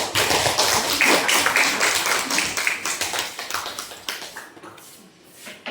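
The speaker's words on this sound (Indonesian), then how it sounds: "Terima kasih kita sampaikan kepada teman kita, kasih tepuk tangan." A school class applauds a classmate, a lively burst of many hands clapping close by, strongest at first and then thinning into scattered claps before fading.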